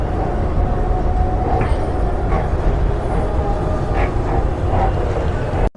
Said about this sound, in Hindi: खड़ी है रानी कमलापति रेलवे स्टेशन से प्रस्थान करने वाली भोपाल एक्सप्रेस, जो कि यहाँ की मुख्य ट्रेन है